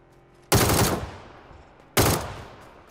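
Gunfire in the PUBG: Battlegrounds video game, with two loud, sharp bursts about a second and a half apart, each ringing out and fading into a quieter background.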